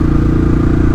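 Royal Enfield Classic 500 single-cylinder motorcycle engine pulling uphill, a loud, close, deep thumping exhaust with a steady rapid beat and no voices.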